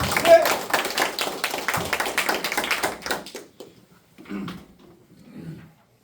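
Union members applaud at a bus workers' union election rally, a brisk burst of many hands clapping that fades after about three seconds, followed by a few faint sounds and quiet.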